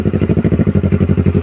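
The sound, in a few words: motorcycle engine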